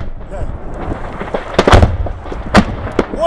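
A KrAZ truck carrying ammunition, hit by artillery, cooks off in scattered sharp pops and heavier bangs at a distance while someone talks excitedly over them.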